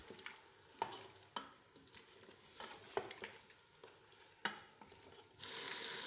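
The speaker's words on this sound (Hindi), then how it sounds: "इसको गोश्त के साथ अच्छी तरह से भून लेंगे।" Beef being roasted with ginger garlic paste in a pot: a low sizzle with several distinct scraping stirs at irregular intervals, ending in a louder, steady hiss.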